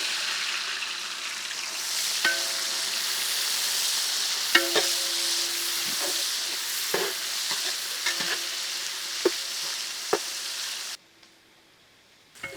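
Finely chopped onions frying in oil with whole spices in a pot for goat intestine biryani, a steady close sizzle with occasional clinks of a stirring spoon, ending abruptly in near silence.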